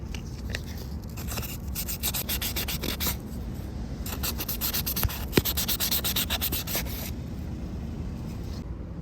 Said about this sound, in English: we're just taking the hand sander and sanding it down